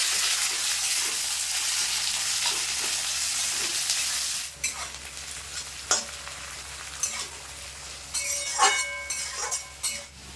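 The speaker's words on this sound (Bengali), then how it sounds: "পেঁয়াজটা একটু লাল লাল করে ভেজে নেবো" Chopped onions fry in a pan of hot oil with dried chilli and whole cumin, opening with a loud, dense hiss that settles into a softer sizzle marked by stirring, scraping and occasional clinks.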